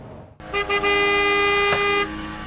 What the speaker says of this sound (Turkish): Yola devam edemeyen diğer sürücülerse korna çalarak bu duruma tepki gösterdi.